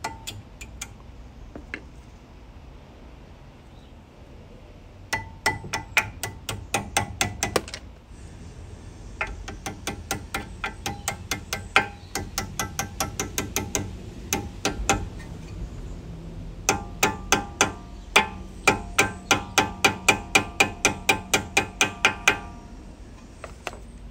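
Brake caliper top pin going back into a BMW 1 Series, heard as close, rapid bursts of metallic clicking like a ratchet, coming in repeated runs separated by short pauses.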